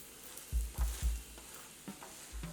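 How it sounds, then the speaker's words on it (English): Spinach almond paratha cooking in a little oil on a flat pan, with a soft steady sizzle and several low thumps and scrapes as a spatula spreads the oil, presses and turns the bread. "half a teaspoon of oil over the paratha. Using the spatula, just spread it and turn it over."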